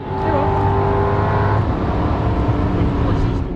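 A Tesla Plaid electric car on a quarter-mile drag run on Nitto tires, giving a steady loud whine with a rising electric-motor tone and a broad rushing roar, no talking.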